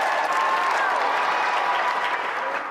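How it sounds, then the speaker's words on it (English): Studio audience at a UK television games show applauding steadily for the two competitors, a dense, sustained wash of clapping that holds loud throughout and eases only slightly at the end. "let's have a final round of applause for two brilliant competitors, Jason Pickford and Tristan Grove."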